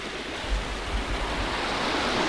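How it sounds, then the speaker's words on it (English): Water from a small waterfall in Carding Mill Valley, Shropshire, splashes steadily off a rock just below it, a continuous broadband rush close by with a low rumbling undertone, with no voices. "There's a rock just below a waterfall and the water's really splashing off it"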